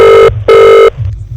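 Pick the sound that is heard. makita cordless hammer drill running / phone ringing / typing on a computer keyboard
phone ringing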